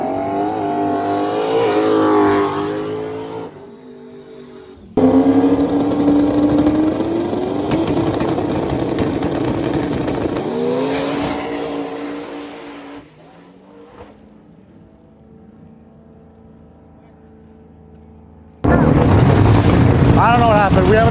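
A drag race car roars down the track at over 200 mph, its engine note climbing in loud, harmonic surges with a brief break between bursts and a tire-shaking loss of traction, while voices are heard over it.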